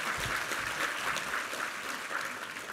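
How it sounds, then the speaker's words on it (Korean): A Korean church congregation at a Sunday worship service applauds together, a continuous, fairly distant wash of clapping that carries on evenly throughout. "우리 하나님께 감사와 영광의 박수 올려드리겠습니다."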